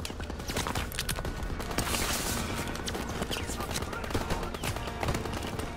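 Gunfire in the World War II shooter Call of Duty WWII: dense, continuous volleys of rifle and machine-gun shots crackle throughout, fairly loud, with a busy battlefield bed underneath.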